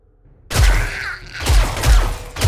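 Loud, close gunfire in the video game 7 Days to Die cracks out in repeated bursts, with booming low-end thumps and mechanical clatter between volleys.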